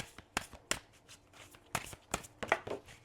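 Tarot cards being shuffled by hand during a spiritual energy reading, giving a run of sharp, close riffling bursts and taps spread irregularly over a few seconds, with no talk over it.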